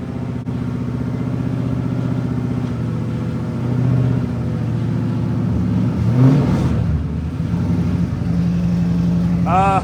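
A Mazda FC RX-7 with a mega mantis angle kit idles loudly with a steady rotary drone, then revs in short bursts while people talk nearby.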